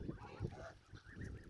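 A goose gives a few short, harsh honks nearby, fairly faint against soft outdoor background noise, with no one talking.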